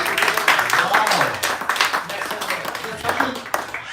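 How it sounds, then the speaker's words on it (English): Round of applause from an audience at a Sunday discussion gathering, moderate clapping mixed with voices and exclamations over a few seconds. "Give her a round of applause."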